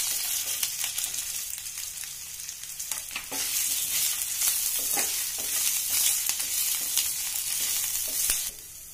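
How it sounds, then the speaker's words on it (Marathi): Potato pieces sautéing in a pan with chili, ginger and cumin give a steady, loud, close hiss of frying, broken by soft stirring scrapes, with no voices. "बटाट्याच्या फोडी आपण मिरची आलं आणि जिऱ्यावरती परतून घेतल्यात थोड्याशा"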